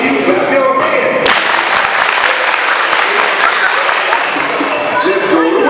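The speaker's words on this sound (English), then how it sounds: "You clap your hands." Children at an elementary school family fun night clap their hands during a group dance, a dense, loud burst of many claps mixed with crowd voices and music.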